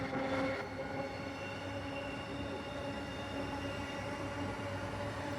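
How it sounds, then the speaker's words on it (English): A three-car Perth airport line train passes on its way toward Leederville, a steady rolling rumble with rail and wheel noise holding throughout, slightly louder at the very start. "And here's the airport line train."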